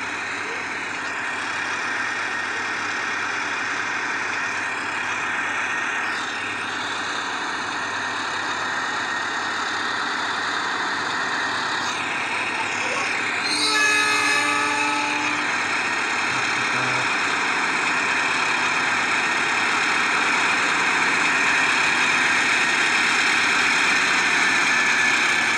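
A long train hauling Pertamina tank wagons rolls past with a steady, droning locomotive engine rumble. A loud horn blast sounds briefly midway, and the train keeps going afterwards without pause.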